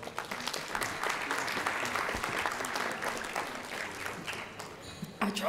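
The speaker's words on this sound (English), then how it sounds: "Please give them a warm round of applause." Sustained audience applause fills a banquet hall at the Louisiana Legislative Black Caucus Eagle Awards, part of a Bayou Classic scholarship jazz brunch: dense, steady clapping throughout, with faint voices near the end.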